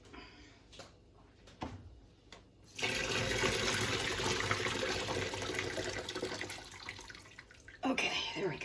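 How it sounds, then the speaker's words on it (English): Boiled potatoes are drained in a kitchen sink, water pouring steadily and rushing for several seconds after a few quieter clatters, then ending with a knock and splash. "Over here to the sink where I'm going to drain the potatoes."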